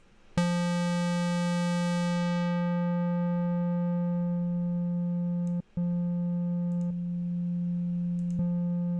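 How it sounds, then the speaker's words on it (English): A steady electronic synth tone holds one low pitch as a square wave is filtered toward a triangle wave, its brightness softening over several seconds, with a few brief clicks as settings change. "you could actually make a triangle wave out of a square wave"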